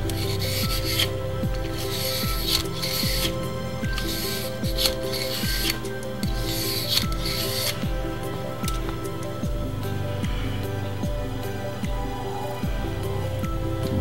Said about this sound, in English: Okay, gonna run the rod in it now.